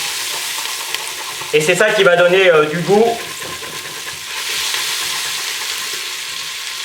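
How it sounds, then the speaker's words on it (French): In a pan that has just browned meat, a utensil scrapes up the stuck juices with a sizzle; a loud scraping burst lasts about a second and a half, then the frying drops back to a low hiss, with a voice talking over part of it. "je gratte un petit peu pour récupérer les sucs de la viande que l'on vient de cuire"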